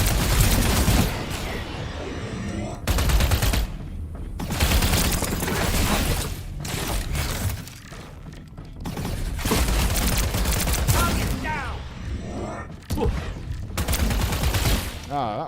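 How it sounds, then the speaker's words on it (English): Video game bombard cannon fire and battle din roar in long, dense, loud bursts of booming and crackling blasts, broken by brief lulls, with dialogue sounding beneath the chaos. "that was a bombard"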